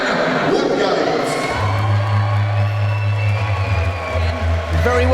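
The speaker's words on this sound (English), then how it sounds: "let's make some noise for the fighter from Planet, Dan Woodgate." A crowd cheers, whoops and shouts as a boxer walks to the ring, loud and continuous over a low thumping entrance track.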